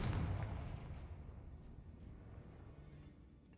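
A Confringo fire spell blasts in Hogwarts Legacy, one heavy booming burst that decays into a fading rumble over a few seconds.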